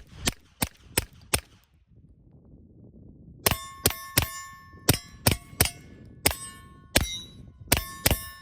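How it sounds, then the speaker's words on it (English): Suppressed 9mm pistol firing regular supersonic 124 grain loads into a mountainside outdoors: sharp, loud cracking shots, four in quick succession, then a pause and about ten more spaced shots with ringing metallic tails. "let's see how it sounds just shooting into the mountainside a couple times."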